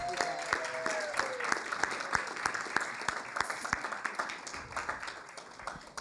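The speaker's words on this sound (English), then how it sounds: "Let's give her a round of applause." A round of applause at a city council meeting, with distinct individual claps in a loose rhythm standing out over a softer crowd clapping, and faint voices murmuring underneath.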